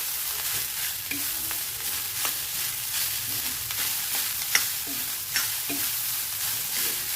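Cooked rice is stir-fried in a pan for coconut rice, giving a constant close sizzle broken by repeated quick spatula scrapes and stirring strokes at an uneven pace. No one speaks.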